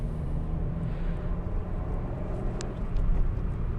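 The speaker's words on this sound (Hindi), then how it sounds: "काफ़ी स्पोर्टी आवाज़ आती है इंजन के अंदर" A Maruti Suzuki Ignis car engine is heard from inside the cabin as it accelerates through the city, a steady low rumble that swells slightly toward the end, with no talking.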